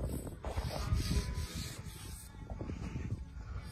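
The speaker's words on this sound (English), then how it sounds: "We are now rubbing off the old varnish off the fascia." Sandpaper rubbing old varnish off a wooden roof fascia, a steady scratchy rasping stroke after stroke, close and moderately loud, continuing without break and without talk.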